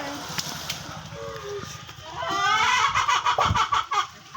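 Three trained hunting doves give short, throaty cooing calls close by, in brief bursts mixed with other clucking bird sounds, while a voice talks over them.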